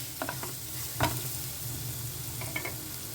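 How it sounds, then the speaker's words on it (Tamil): Masala and turmeric frying in a pan for tomato rasam while being stirred, with a soft steady sizzle and a few short scraping strokes of the spoon, no talking. "சேர்த்து நல்லா கிளறி விட்டுக்கோங்க"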